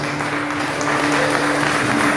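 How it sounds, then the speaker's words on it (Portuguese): A church congregation applauds in praise of Jesus: steady, dense clapping from many hands throughout, with a sustained musical tone beneath, and no talking. "Você pode aplaudir o nome do Senhor Jesus?"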